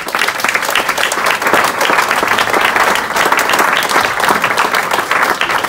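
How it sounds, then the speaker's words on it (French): An audience at a charity swim challenge event applauds steadily, a dense, loud wash of many hands clapping that holds for the whole stretch with no voices. "vous pouvez vous applaudir je crois"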